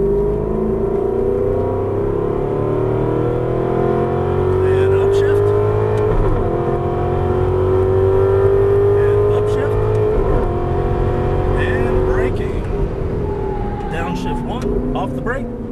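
Aston Martin V8 Vantage engine heard from the cabin on a cone-marked course, droning steadily, then rising at full throttle with shifts and revs changing pitch, while a driver talks throughout.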